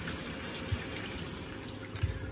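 Coolant wash-down water on a retrofitted Brother TC-227 CNC machine runs in a steady, close rush of spraying liquid, with a couple of faint knocks.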